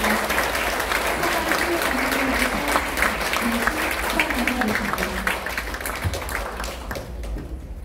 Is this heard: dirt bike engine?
no